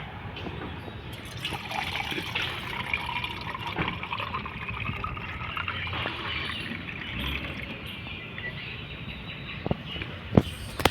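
Water trickles and splashes steadily into a container at a temple, a soft continuous pouring with occasional drips and faint clinks, birds chirping lightly in the quiet background.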